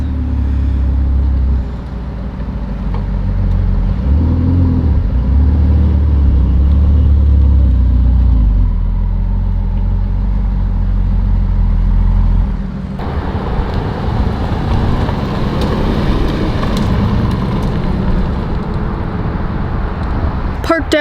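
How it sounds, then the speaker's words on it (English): A blacked-out Ferrari 488 GTB with yellow accents moves past, its engine a steady low rumble that shifts character partway through, heard amid traffic-like background noise. "I think he's moving this extremely understated 488 GTB, all blacked out with some yellow accents."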